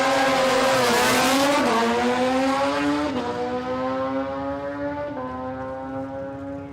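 A blue Kawasaki 787 drag racing motorcycle with a short swing arm makes a test-and-tune run at Palmyra Dragway, its engine screaming loud and close with rising pitch through several quick gear shifts.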